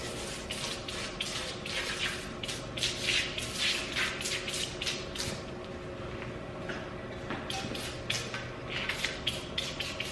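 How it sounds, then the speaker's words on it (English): Engine parts on a drift car being soaked with degreaser spray, heard as a string of close, fairly loud hissing spray bursts with short pauses between them and no talking. "I'm gonna soak this with energy degreaser and just let it sit for a little bit."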